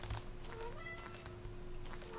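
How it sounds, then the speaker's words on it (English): A house cat meows loudly and close by, a short cry standing out over a steady background hum with faint game audio. "My cat just came and shouted at me for some reason."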